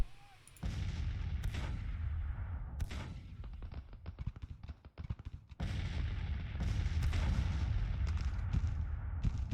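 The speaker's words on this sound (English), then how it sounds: "We got artillery coming up." Cannon fire in the Civil War strategy game Grand Tactician thunders in repeated heavy booms over a low, continuous battle rumble, with scattered crackling shots between blasts.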